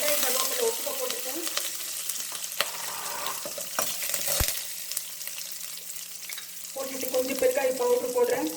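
Onion, curry leaves and salt fry in a pan for idli sambar, crackling and sizzling continuously close by, with the sizzle dipping and swelling as the mix is stirred and a few utensil knocks.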